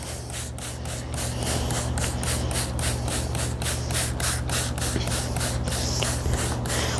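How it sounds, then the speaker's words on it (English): A spray bottle squirts liquid onto fabric repeatedly in quick, regular bursts, close by, outdoors on a patio, over a low steady hum in the background. "Then this next section of fabric, I'll go ahead and spray again."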